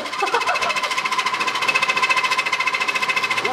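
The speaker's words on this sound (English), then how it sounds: "1 3/8-inch Forstner bit that I'm going to use to drill a hole down past the wood into the resin" A loud, steady mechanical drilling grind with a rapid rhythmic pulse, continuous and close, with no talking, as a 1 3/8-inch Forstner bit drills through soft redwood into resin.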